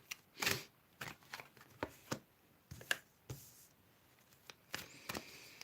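Tarot-style cards are shuffled and three are drawn, with soft riffling bursts and separate sharp slaps and flicks at an irregular pace, close by and with no talking.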